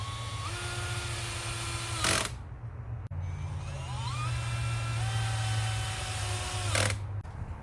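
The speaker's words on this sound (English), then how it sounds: "then I started screwing everything into the base" Power drill driving screws into the wooden base of a cat patio floor, heard as two short bursts with a falling whine, separated by a quieter stretch of rising tool tones over a steady background hum.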